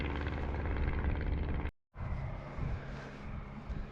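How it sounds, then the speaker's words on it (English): A plane at the Montrose air show in Scotland, a continuous loud broadband drone from its engine. The sound cuts out briefly partway through, then returns steady and close. "It's got the plane noise in it."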